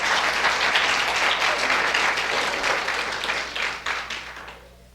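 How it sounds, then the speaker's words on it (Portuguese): Church congregation giving loud sustained applause that fades toward the end, with no talk over it. "será que Jesus merece uma salva de palmas?"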